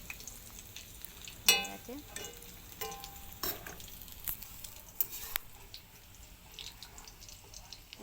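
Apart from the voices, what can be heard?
fish oil fritters frying in pan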